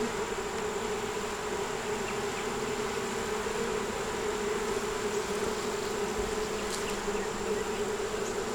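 Honey bees hum steadily around an open hive frame at close range, a dense continuous buzz with no voices.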